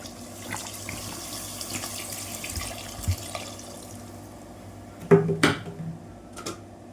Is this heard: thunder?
no